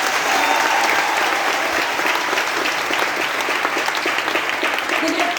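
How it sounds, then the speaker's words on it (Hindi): A large audience at a business-plan presentation applauds steadily and strongly throughout, a thick, even roar of many hands clapping without a pause. "तो कैसी तालियां होनी चाहिए इसके लिए?"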